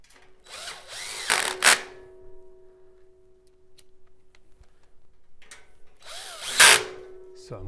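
A power drill drives screws into a propane pyramid patio heater during assembly, with two loud whirring bursts separated by a quiet pause, heard close up.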